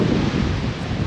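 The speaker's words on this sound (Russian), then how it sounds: "Ветер сегодня очень сильный." Strong wind roaring steadily into the microphone, a dense low rumble with gusty buffeting and no voices.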